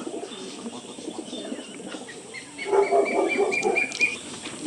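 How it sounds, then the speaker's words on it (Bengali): Pigeons in a loft, high flyers and Giribaz birds among them, coo softly over a steady chirping background, the cooing growing louder and fuller partway through before settling again. "খুব সুন্দর ওভারঅল পায়রা এই হচ্ছে পুরো সেট বাচ্চা দুটো আর এই হচ্ছে বাবা মা"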